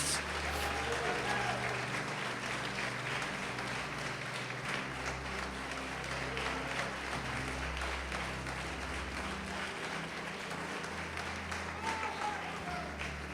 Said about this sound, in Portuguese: Vamos adorar, vamos aplaudir, vamos glorificar a Deus.